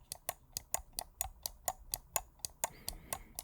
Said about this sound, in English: Now let's do the mouse 2.